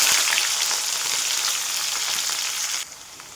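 Onion sizzles in hot oil with mustard seeds and cumin, a close, dense hiss that holds steady and then drops abruptly just before the end.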